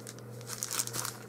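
Plastic packaging holding a pack of paper bags from a Target clearance haul crinkles and crackles as it is handled up close, in a short burst of rustling with no talk.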